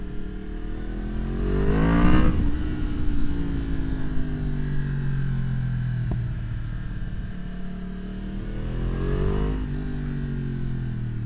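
A 2023 Yamaha MT-10 with its AIS deleted revs loudly nearby, two rising engine sweeps with a steady exhaust rumble between them, plus a brief sharp pop from the exhaust.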